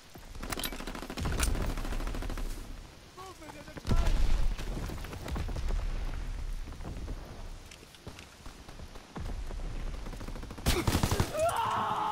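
Gunfire in Call of Duty: WWII, a continuous rattle of automatic weapons under layered combat noise, with heavy bursts near the start and end, voices talking over it.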